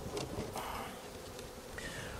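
Honeybees buzzing around an open hive in October, a faint continuous hum with scattered louder passes of individual bees near the listener.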